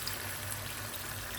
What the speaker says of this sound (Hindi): मैं इसलिए इसके अंदर थोड़ा सा पानी डालूँगी अपने हिसाब से